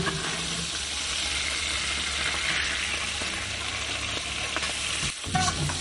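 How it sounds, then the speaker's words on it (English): Beef stir-fries in a wok over high heat, a continuous loud sizzle with the scrape and clatter of a spatula stirring throughout. "Over high heat, only cook beef for about 1 minute here until caramelized"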